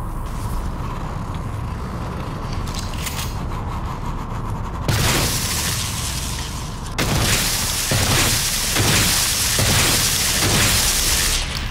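Gunfire and explosions in the sci-fi video game Prey: a dense, loud, continuous roar of booms and bursting blasts, with sharper bangs layered on top in the second half.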